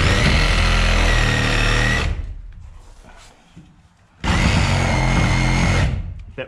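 A power saw cuts through wood close to the ground while preparing for a barn build: a loud, steady whining cut for about two seconds, a quieter pause, then a second sustained cut running to the end.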